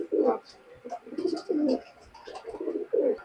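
Pakistani high flying pigeons cooing in repeated low throaty bursts, several calls in a row with short gaps, close and fairly clear, with faint higher chirps in the background.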